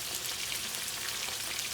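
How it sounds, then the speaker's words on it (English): A steady, dense crackling sizzle of chicken wings deep frying in hot oil, continuous and fairly loud throughout. "So while our wings are frying up"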